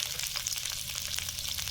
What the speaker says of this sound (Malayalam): നമ്മുടെ അണ്ടിപ്പരിപ്പ് അതുപോലെ തന്നെ ഉണക്കമുന്തിരി ഇതാ നല്ല പോലെ അത്യാവശ്യം ഒന്ന് വറുത്ത് വരുന്നുണ്ട്